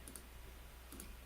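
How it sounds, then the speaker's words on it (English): Quick light clicks of typing on a computer keyboard, a couple of short bursts of faint keystrokes against a quiet room, ending in a sharper click. "let's go typing"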